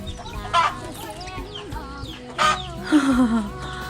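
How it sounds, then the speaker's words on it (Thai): Chickens cluck and squawk in a Thai chicken farm, with several bursts of busy fowl calls and a rooster-like rising cry near the end over a steady rural background. "อันนี้จะเป็นอันฟาร์มไก่นะทุกคน"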